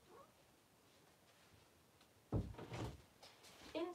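A house door is opened to let a cat in: quiet at first, then a sudden close clunk of the latch and the door swinging, followed by rattling and another knock.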